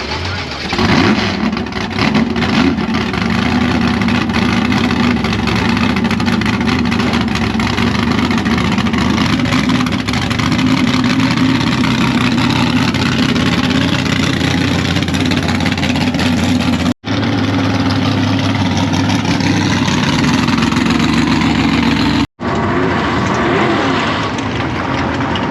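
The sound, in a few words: race car engine running in the staging lanes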